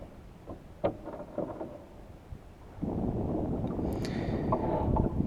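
A Potter 15 sailboat sailing in light wind, with faint creaks and knocks at first, then a steadier rush of water and breeze against the microphone rising toward the end.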